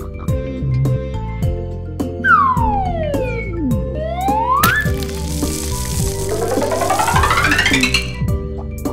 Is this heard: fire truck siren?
yes